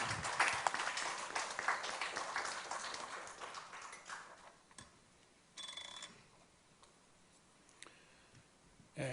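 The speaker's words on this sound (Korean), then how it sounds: "목사님 나오실 때 사랑과 존경을 담은 따뜻한 박수로 맞아주시기 바랍니다." Scattered applause from a small church congregation greeting the pastor, a dense patter of claps at first that thins out and fades, followed by a few isolated claps and quiet room noise.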